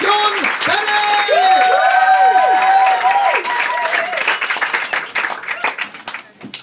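Comedy club audience at Angel Comedy in London applauding and cheering loudly for a stand-up act, with whoops and sustained clapping that thins out toward the end.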